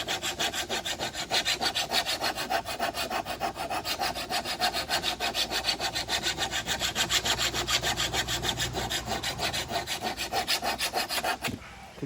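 A hand file sharpens a worn lawn mower blade in fast, regular rasping strokes, close and steady for several seconds before stopping abruptly.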